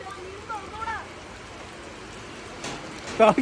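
Heavy rain at a beach DJ night at Varkkala, a soft steady wash of falling rain heard under scattered voices, with brief louder bursts near the end.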